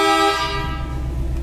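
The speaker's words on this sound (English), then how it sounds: "It's got the train horn, which is louder than a semi's horn." A loud train horn fitted to a custom Ford Mustang convertible blasts nearby in one sustained chord, strongest at the start and fading slightly, with engine rumble underneath.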